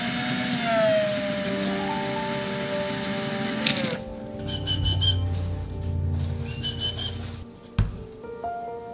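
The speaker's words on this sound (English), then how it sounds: "we're gonna drill a little hole on this end" A small drill bores a hole into an emu egg, a high whining motor tone for several seconds, then lower grinding and rattling as it works into the shell, ending with a knock.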